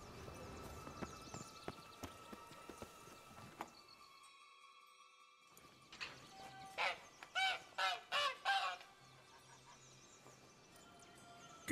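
A caged hen bird in the video game The Witcher 3: Blood and Wine honks about six times in a quick series after ambient game sounds and faint clip-clop, the calls loud and close.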